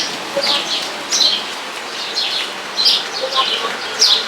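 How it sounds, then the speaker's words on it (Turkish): Several birds chirp and sing in short, bright bursts repeating across the clip, fairly faint against a soft outdoor background hiss, in Çeşme. "Ay kuş sesleri çok güzel."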